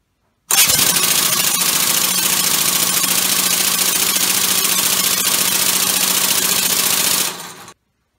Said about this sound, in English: this is my six-cylinder, two-plate air engine that I had worked on a while back